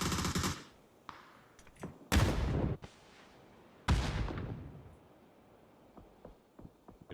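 Gunfire and grenade explosions in a PUBG esports scrim. Several loud blasts and bursts come at irregular intervals, each with a long decaying tail, and scattered sharper shots follow more faintly. No voices are heard.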